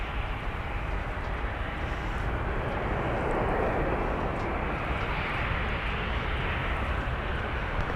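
Airliner arriving at Minneapolis–St. Paul airport, a steady broad jet roar that swells slightly in the middle as the plane passes, heard at a distance without talk.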